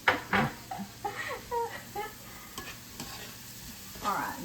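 Pan of Tuscan chicken with sun-dried tomatoes sizzling at a moderate level, with intermittent stirring scrapes and clinks over the steady frying hiss.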